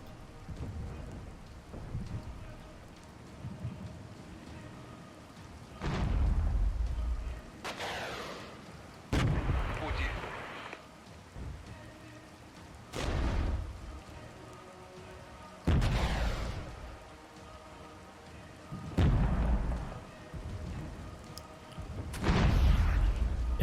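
Armored vehicles such as BRM-1K scouts and a Shilka firing in the Cold War strategy game Regiments, with repeated sharp heavy cannon blasts and booming impacts at irregular intervals over a low rumbling battlefield background.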